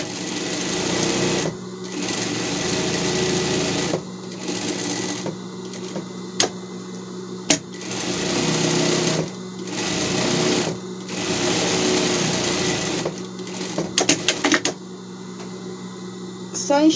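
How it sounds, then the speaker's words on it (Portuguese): Sewing machine running bursts of rapid stitching along a seam around a pet bed, with the motor whirring in repeated runs separated by short pauses and a few clicks near the end. "Vai passar uma costura ao redor"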